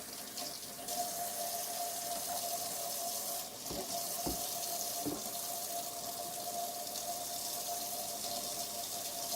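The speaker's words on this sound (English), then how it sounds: "put it right here where the water is, and then turn on some water." Steady water running from a tap into a hookah being cleaned, a continuous hiss filling the whole clip with a faint tonal hum beneath and a few brief knocks.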